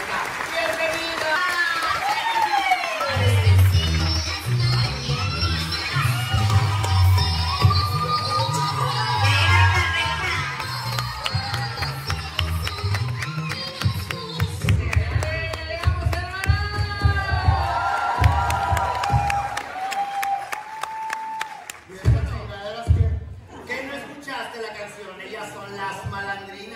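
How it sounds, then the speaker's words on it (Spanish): A studio audience welcomes a guest with loud, sustained applause, cheering and whoops that carry on for a long stretch before gradually thinning out. "con su aplauso, ¿la recibimos sí o no?"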